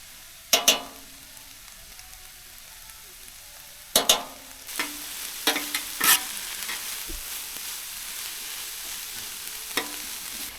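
Garlic and onions frying in a pan at a camp kitchen, a low steady sizzle broken by a few sharp clacks of a utensil and louder bursts of frying, close and moderately quiet, no voices.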